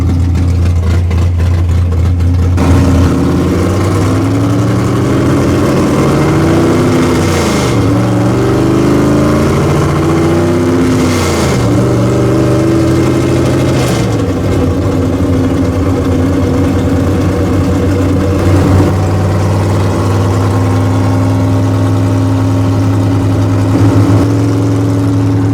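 The restored car Calamity Jane runs on a shakedown drive, its engine loud and close throughout, idling heavily, then revving up and down in several swells before settling into a steady drone.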